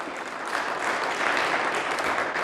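A church congregation clapping for Jesus Christ, a dense, steady wash of many hands applauding together at a moderate distance, with no voices over it.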